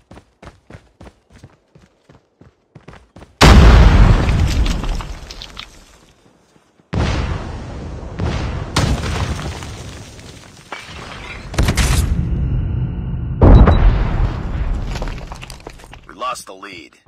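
Grenade blasts in the shooter game Call of Duty Mobile: several loud, booming bursts that each decay over a few seconds, following a patter of small clicks.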